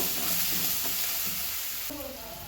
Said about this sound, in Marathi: त्यातच टाकूया एक चमचा लाल मिरची पावडर मिक्स करून